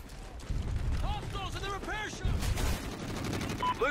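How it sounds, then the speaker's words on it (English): Bursts of rapid automatic gunfire in a multiplayer shooter video game, with repeated dense volleys up close and game sound effects mixed in. A voice is faintly present. "Let's start shooting at him."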